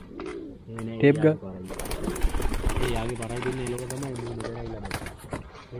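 Indian breed pigeons cooing in a pigeon loft, several soft throaty coos close by, with someone talking over and between the calls.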